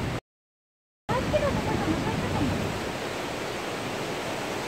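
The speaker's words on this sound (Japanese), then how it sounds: "あの、レイメイの滝です。" Reimei waterfall in Kikuchi Gorge, a steady broadband roar of falling water that starts after a brief silent gap and then holds evenly to the end, with no clear talk over it.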